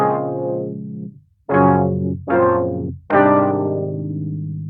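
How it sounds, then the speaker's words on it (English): A synth patch from an Eventide H90 effects pedal plays four sustained, bright notes. Each starts sharply and decays, with short gaps between them, up close and alone. "I have a synth sound from the H90,"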